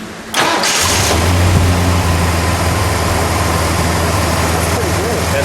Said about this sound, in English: We're going to see if this will crank without me even getting anything.